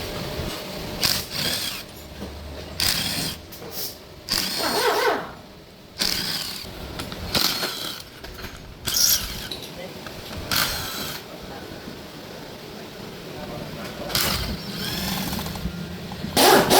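A power tool spins out the engine case bolts of a Honda CBR150R motorcycle in about nine short, loud whirring bursts, spaced by pauses in which someone talks.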